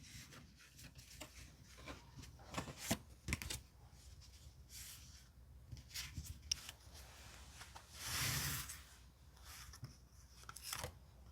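Tarot cards are shuffled and picked. Very quiet rustles, light taps and scattered sharp clicks are heard close by, with a brief longer swish near the end and no speech.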